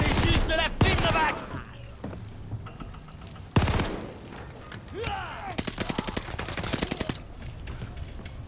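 In a Call of Duty Vanguard campaign battle, loud gunfire erupts: single heavy booming shots early, then a rapid, sustained machine gun burst of closely spaced cracks near the end.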